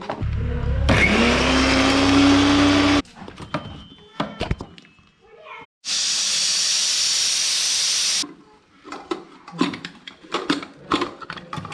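A kitchen mixer grinder whirs loudly as it grinds jackfruit seeds with turmeric in two bursts, a sustained high roar followed by a hissing run, with clattering handling sounds between and after.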